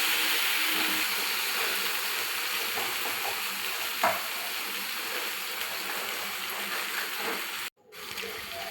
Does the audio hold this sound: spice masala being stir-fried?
yes